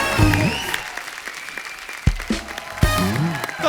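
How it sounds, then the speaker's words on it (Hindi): Studio audience on a comedy talk show applauds Rani and Saif Ali Khan, a moderate wash of clapping beneath lively talk and laughter, with a few sharp thumps cutting through. "एक बार रानी और सैफ अली खान के लिए जोरदार तालियां"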